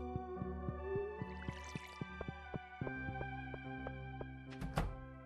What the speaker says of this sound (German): Gießen.